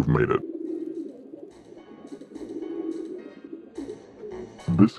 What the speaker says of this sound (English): This carrier frequency pigeon possesses top secret information.